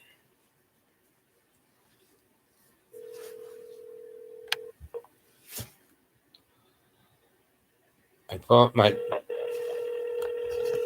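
A home telephone sounds a steady dial tone, then a few clicks and handling noises, followed by a quick burst of keypad dialing tones and a renewed tone, with a brief spoken remark in between.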